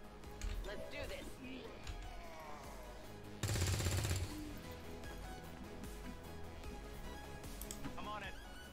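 A burst of automatic gunfire from the tactical video game XCOM 2 rattles out for under a second midway, amid game music and effects, with people talking over much of it.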